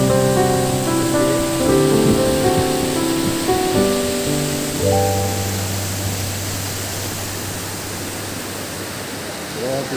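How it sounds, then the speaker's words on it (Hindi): A waterfall in Jharsuguda district drops about 30 to 40 feet onto rock, giving a steady broadband rush of water throughout. Musical tones play over it at first, and a low sustained tone follows. "वाटरफॉल झारसुगुड़ा डिस्ट्रिक्ट में देखिए बहुत सुंदर"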